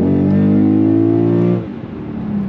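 Lexus GS-F under full-throttle acceleration to pass at highway speed, a loud sustained engine roar rising steadily in pitch and then dropping away as the throttle lifts.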